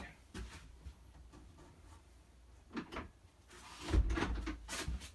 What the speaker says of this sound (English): We're going to close the door back up.